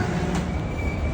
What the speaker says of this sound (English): And that's my train.